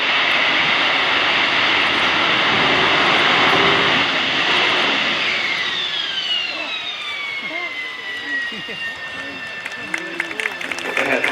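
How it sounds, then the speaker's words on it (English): An AV-8B Harrier II's Pegasus jet engine roars and whines at an air show display, then its pitch slides steadily downward as the engine winds down, the roar fading to a lower rumble. "the Pegasus engines cooling down towards the end of the display"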